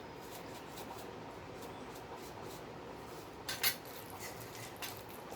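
Cutlery and dishes clink faintly in a home kitchen as bitter gourd and mashed potato are served. A few soft, scattered scrapes and taps rise to a brief sharper clatter near the middle.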